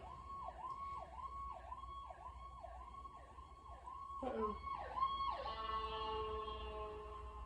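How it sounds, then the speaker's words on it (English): An ambulance siren wails in a repeating up-and-down pattern, then its pitch drops sharply as it passes close by and continues fading away. "an ambulance just passed me"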